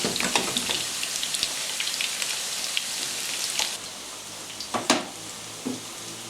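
Onions and potatoes fry in a pan for a Spanish omelette, a steady crackling sizzle with scattered pops that softens partway through, followed by a few sharp clicks and taps.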